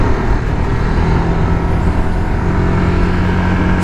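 Steady, loud road traffic rumble heard while riding a Honda Click scooter, with continuous engine and tyre noise from surrounding vehicles and no break throughout.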